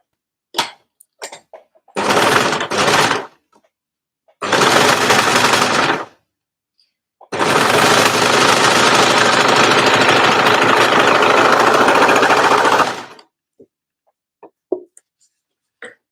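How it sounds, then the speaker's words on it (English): An overlocker stitching a folded cardigan cuff runs in three loud, close bursts of rapid mechanical whirring, the last lasting about six seconds, separated by short silences and faint handling clicks. "I'm going to fold it in half, and then I'm going to overlock that together."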